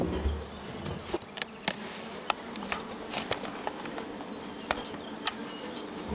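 Honeybee swarm settled in a Japanese-style hive, a steady close buzzing drone of many bees with scattered louder passes of individual bees near the hive, no talking.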